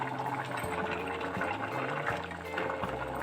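Water with dumplings simmering in a pot on a stove, a steady continuous bubbling and churning with faint low rumbling underneath, close and even throughout.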